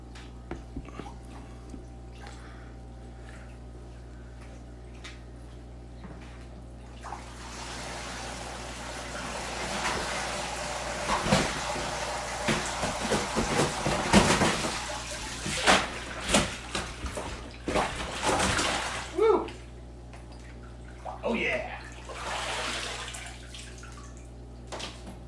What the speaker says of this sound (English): But let's get Thor back in the water.